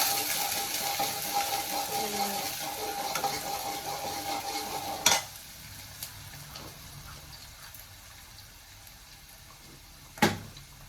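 A tadka fries in a pan before Maggi noodles go in. Close sizzling runs for about five seconds, then drops to quieter stirring marked by two sharp metallic clanks, with no speech.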